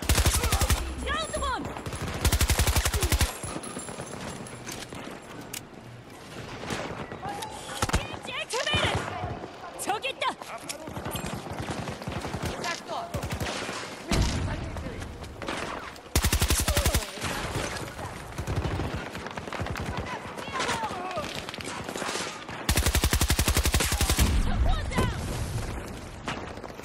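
Rapid automatic gunfire from a first-person shooter game, loud bursts and sustained volleys recurring across the stretch, with someone talking casually over the shooting.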